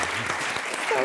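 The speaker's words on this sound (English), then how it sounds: "You're clapping for love, gratitude, and humility." Conference audience applause, a short burst of dense clapping with cheering voices mixed in, fairly loud and continuous.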